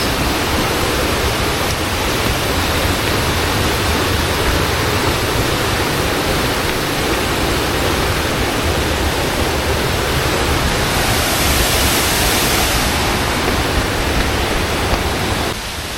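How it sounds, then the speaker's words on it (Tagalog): A small waterfall in Agusan del Sur gives a constant, close rush of falling water, dense and unbroken from start to finish, with no voices. "Yan yung maliit na falls."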